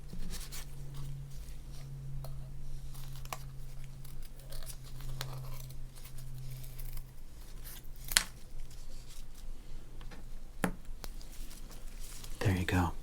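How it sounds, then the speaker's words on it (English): Scissors snip and slice through 1988 Donruss sports cards, close and quiet, with crisp cutting and faint paper handling over a low steady hum, ending in a brief rustle. "why do you cut up the cards?"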